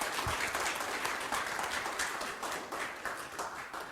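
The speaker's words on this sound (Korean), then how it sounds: "다시 한번 큰 박수를 교수님께 드리면 좋겠습니다." Applause from a forum audience for a professor, a dense, steady clapping that holds for a few seconds and tapers slightly toward the end, without voices.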